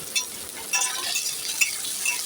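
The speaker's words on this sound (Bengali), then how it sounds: "পেঁয়াজটা ভাজা হতে হতে আমার পেস্টটাও হয়ে যাবে।" Chopped onions fry in a pan for a chicken keema cutlet, giving a continuous soft sizzle with a few faint clicks of stirring and no voices.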